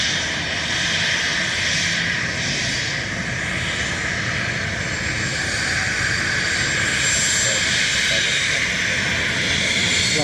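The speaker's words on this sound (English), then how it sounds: "we have an Aer Lingus from London Heathrow, and then a Ryanair from Manchester" Steady, loud roar of Aer Lingus and Ryanair airliners at Dublin Airport, a continuous broadband engine rush holding level throughout with no talk over it.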